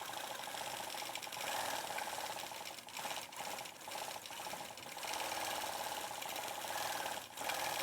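A sewing machine stitches butterfly loop patterns across an embroidery quilt, its steady mechanical whirring running continuously for several seconds with brief dips as the needle pauses and resumes.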